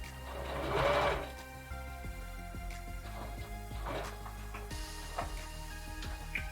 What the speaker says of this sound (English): I'm going to sew it back and forth.